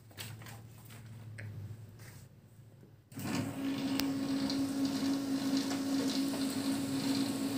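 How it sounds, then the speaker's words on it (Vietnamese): A Canon LBP3300 laser printer prints a test page: a low steady hum and whir starts about three seconds in after quieter mechanical sounds, running evenly and close by. "Bây giờ mình sẽ in test cho các bạn xem nhé."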